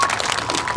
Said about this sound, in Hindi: एक बार जोरदार तालियों से आपका इस्तकबाल करते हैं